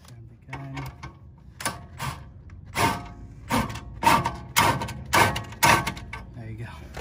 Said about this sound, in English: Grab the gun.